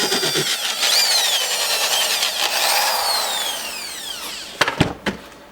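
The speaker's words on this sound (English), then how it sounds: "I'm just going to pre-drill a little hole in it." A power drill pre-drilling a hole in a rubber belt whines with a rising, shifting pitch for several seconds, then stops with a few sharp knocks and clatters close by.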